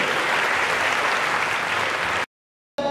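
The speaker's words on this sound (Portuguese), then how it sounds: "Muito bem, aplauda ao Senhor." A church congregation claps loudly and steadily for about two seconds, a dense wash of applause that cuts off abruptly into silence before a brief return.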